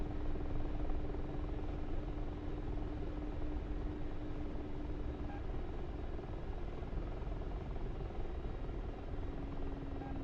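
Helicopter rotor and engine in a flight simulator, a steady loud droning whir with a constant low hum, continuous and unbroken with no voices.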